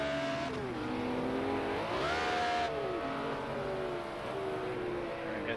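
A BMW M1 Procar race car engine in a racing video game at Oulton Park International, revving and shifting through gears with rising and falling tones, loud and continuous, joined by a brief rush of noise.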